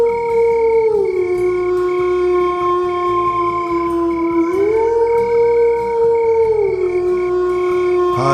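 A long, drawn-out wolf howl rising and falling in pitch, loud and sustained, over a low rumbling background.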